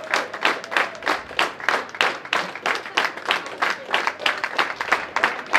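Spectators at a poker championship main event in Dublin clap in steady, rhythmic applause with scattered cheering, loud and close, with some voices mixed into the crowd.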